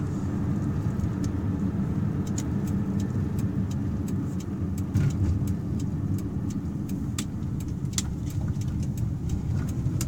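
A 1984 Toyota Camry driving, its engine and road noise a steady, continuous rumble throughout with occasional faint clicks and ticks, heard from inside the car with no one talking.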